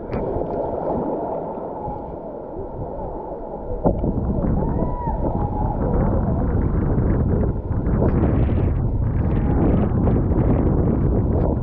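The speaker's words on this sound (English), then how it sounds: "So much wind." Strong wind buffets the microphone during a river rafting trip in Arizona, a constant heavy rumble with water sloshing around the raft and people talking under it.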